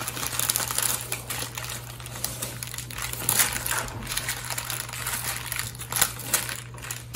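Oat and dried fruit mixture with honey being pressed down firmly by palm, giving a steady low crunching and crinkling texture with brief louder squeezes, close and alone with a faint background hum.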